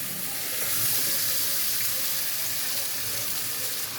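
Marinated chicken hits a pan of frying onions, setting off a loud, dense hiss of sizzling oil that holds steadily throughout.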